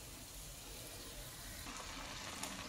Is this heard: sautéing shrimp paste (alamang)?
yes